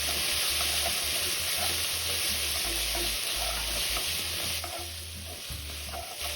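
Udon noodles being stir-fried in a pan with black pepper sauce, soy sauce and sweet dark soy sauce, giving a steady close sizzle broken by repeated scraping and tossing strokes, with no talking.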